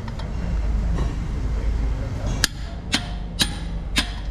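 A torque wrench tightens the cylinder head bolts on a Caterpillar 3126 diesel engine, giving four sharp metallic clicks at roughly half-second intervals over a low background hum.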